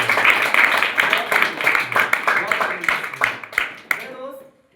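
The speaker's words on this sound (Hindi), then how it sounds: "आपकी तालियों के साथ" Audience applause at a motivational talk on direct selling, a steady burst of many hands clapping that fades out at the end, with voices mixed in.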